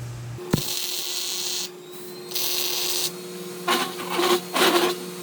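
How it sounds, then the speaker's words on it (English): A press tooling holder is welded along its sides in several separate bursts of harsh buzzing crackle, each lasting about a second, with a steady electrical hum between them. "weld the sides first, then I'll flip it over and weld the back"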